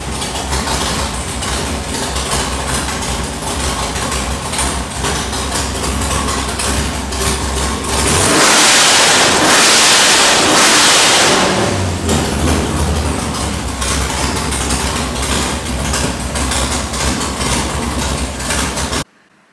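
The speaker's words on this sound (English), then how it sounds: "So we're gonna dyno it here and see how everything looks." A 700-horsepower 441-cubic-inch LS V8 with 13.25:1 compression runs on a dyno, a loud steady idle that rises into a hard full-throttle pull for several seconds, then settles back to a rumbling idle.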